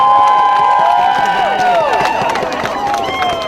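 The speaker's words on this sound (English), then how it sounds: "he deserves our round of applause for that" Crowd applause and cheering at a political speech about defending the constitution, loud and sustained, with whistles and shouts rising over the clapping.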